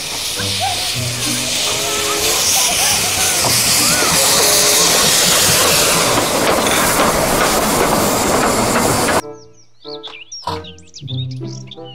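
A Thomas toy train runs loudly with a continuous hissing rattle and chugging for about nine seconds, then stops abruptly, followed by brief toy chimes and tonal effects.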